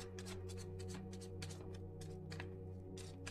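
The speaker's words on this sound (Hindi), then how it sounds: "एंड शफल कर लेते हैं कार्ड्स" Tarot cards are shuffled by hand in quick, rhythmic riffling bursts, soft and close, with no voices.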